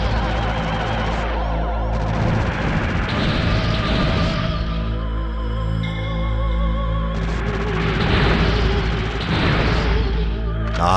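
Weapon fire from the PS1 shoot-'em-up Einhander, laser and minigun shots over a dense, continuous game soundtrack, with busy bursts and pops throughout and heavier clusters near the start and end.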